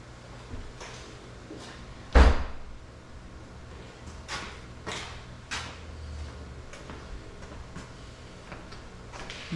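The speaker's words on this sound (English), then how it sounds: "Let me shut the door." A door is shut in a room, giving one sharp, loud thud followed by faint knocks and small mechanical clicks against a quiet background.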